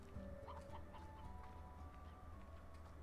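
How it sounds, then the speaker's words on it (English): Briar hen in the video game Slime Rancher clucking in a few short calls over a steady game ambience of low hum and tones, close and moderately loud. "natural briar hen"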